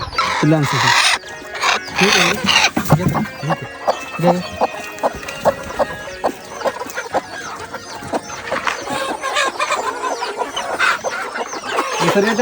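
Desi chickens in a farm poultry shed, loud close clucking and overlapping bird calls throughout, with rapid repeated bursts from many birds and talking in places.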